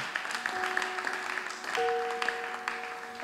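A church congregation applauding together, a steady spread of clapping carried on for a few seconds with sustained musical tones beneath it.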